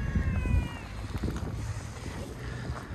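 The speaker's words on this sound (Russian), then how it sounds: "Во-первых, очень сильный такой ветер." Strong wind roars and buffets steadily across a square in Donetsk, with low gusty rumble throughout and a faint high whine in the background.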